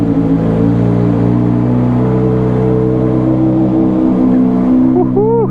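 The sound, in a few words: Honda CBR600RR motorcycle starting with loud Toast exhaust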